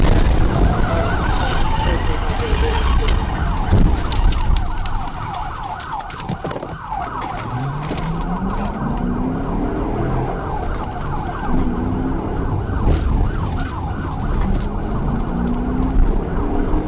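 A police car siren wails in loud, continuous cycles during a high-speed pursuit on an interstate, with steady road and engine roar beneath and a sweeping rising tone partway through.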